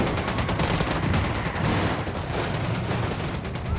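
Sustained gunfire in the tactical shooter Ghost Recon Wildlands, with dense, rapid overlapping shots and bursts that roll on loudly and without pause for several seconds and no talk over them.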